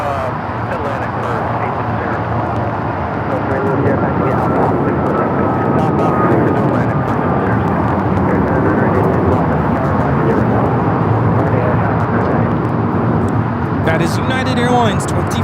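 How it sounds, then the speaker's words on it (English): Boeing 737 MAX 9 departing Los Angeles airport for Chicago, a steady broad jet roar holding loud through the takeoff run while a voice talks over it. "487 taking off to Chicago on the MAX 9"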